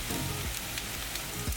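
Onion and mushrooms sizzle while frying in a pan, a steady close crackle and hiss that carries on throughout with no voices.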